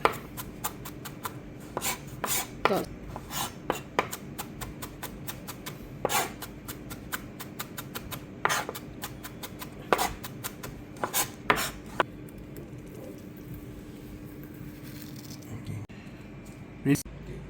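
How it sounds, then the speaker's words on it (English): A knife slices and minces ingredients on a cutting board for Malaysian turmeric chicken, giving quick irregular chopping taps with steady background hum, close by. "We slice it thinly first. Then we mince it."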